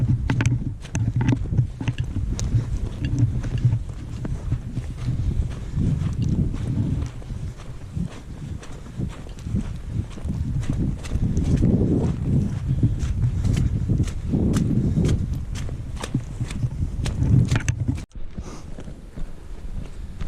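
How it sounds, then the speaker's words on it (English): Horses walk on a mountain path near Conwy Mountain in the Welsh Carneddau. Their hooves clip-clop steadily under heavy wind noise, with occasional sharper knocks. "More horses."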